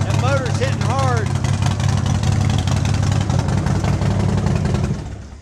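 Harley-Davidson Dyna Street Bob with a custom build and mid-glide front end, its engine running loud and close with a deep, steady rumble that fades at the end, while a voice speaks over it.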